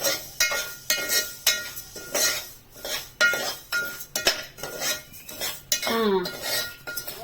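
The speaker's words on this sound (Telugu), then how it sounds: "ఇది ఇలాగ వేపాలి" Stir-frying dry ingredients in a metal pan, with repeated rhythmic scrapes and clinks of a utensil against the pan, loud and close, with no talking.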